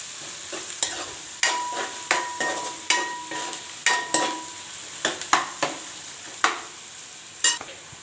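Ginger garlic paste frying with onions in a pan for Telangana-style chicken curry, a soft sizzle beneath repeated close scraping clinks of a stirring spoon against the pan, irregular and steady, with no talking.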